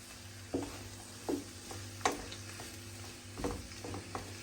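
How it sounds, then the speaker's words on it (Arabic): Vegetables with spices and garlic stirred in a frying pan, a steady sizzle broken by several scraping stir strokes about every second, close and moderately loud with no talk. "صافي نحركها مزيان"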